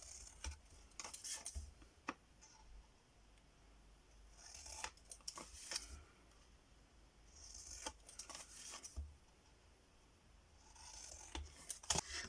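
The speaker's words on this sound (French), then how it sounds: "Et vous venez ensuite tout simplement couper tous vos angles." Scissors snip through the corners of a handmade notepad in a few separate short cuts, spaced out among quiet handling noise, close and fairly soft.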